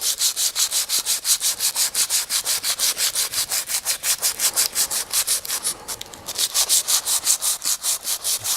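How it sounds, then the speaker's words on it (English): Sandpaper rubs rhythmically back and forth along a wooden baseball bat, with fast, even scratchy strokes about five per second, loud and close, pausing briefly near the end before resuming. "let's crack out the sandpaper and get all dusty"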